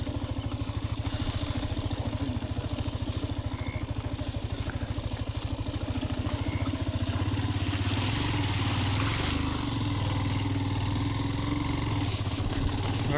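A motorcycle rides along a road, its engine a steady, loud pulsing drone that holds throughout with slight changes in pitch, plus faint wind and rumble and no clear talk.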